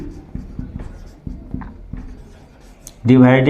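A line being written with pen or chalk during a trigonometry math lesson: a series of short scratchy strokes with pauses, close by, followed by a voice starting to speak at the end.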